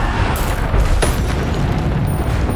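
A loud, booming magical spell impact from the PC game Hogwarts Legacy, one heavy burst rising out of a dense, continuous rumble of noisy game effects.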